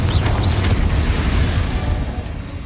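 A loud fiery blast from the Confringo spell in Hogwarts Legacy, with a deep booming burst and crackling rumble that stays dense and close for a few seconds before easing slightly.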